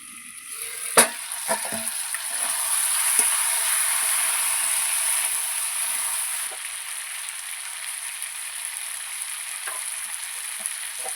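Spicy chicken kosa sizzles steadily in a pan, a continuous bright hiss of frying with a few sharp spatters and stirring clicks, close and alone with no voices.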